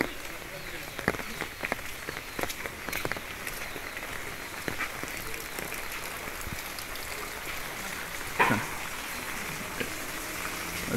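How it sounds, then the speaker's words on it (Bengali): Heavy rain pours down in a steady, dense hiss with scattered pattering drops and a brief louder splash, while a voice speaks now and then. "তো আজকে প্রচণ্ড পরিমাণে বৃষ্টি নামছে"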